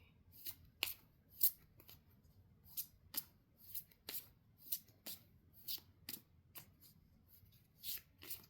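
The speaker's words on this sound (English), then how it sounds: "I am going to pull some cards for the week." Tarot cards being shuffled by hand, a series of soft, crisp riffling snaps repeating irregularly about once per half second, quiet and close with no talk.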